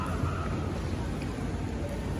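Heavy rain pouring during monsoon flooding, a dense steady hiss of downpour filling the scene at constant loudness with no talk.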